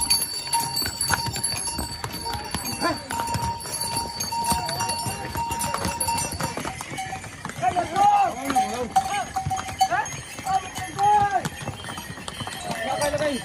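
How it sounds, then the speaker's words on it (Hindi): Horses clip-clopping along the steep Kedarnath trek path between Gaurikund and Kedarnath, steady hoof beats with faint bells, under continuous talk and crowd noise throughout. "रास्ते में जो घोड़े हैं वो बहुत ज़्यादा भाग रहे हैं"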